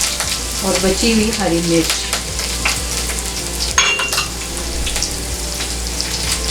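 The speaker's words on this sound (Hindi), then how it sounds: "अब इस घी के अंदर बचा हुआ अदरक लहसुन का पेस्ट ऐड करेंगे" Ginger garlic paste and green chillies fry in ghee in an iron kadai for a mutton karahi, a loud, continuous sizzle with a few utensil clinks, while a voice speaks briefly near the start.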